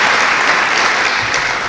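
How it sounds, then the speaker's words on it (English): A gallery talk audience gives a loud, dense round of applause, many hands clapping together steadily for the whole stretch with no voices over it. "Could we have a round of applause for all the hard work and skill that went into setting this up?"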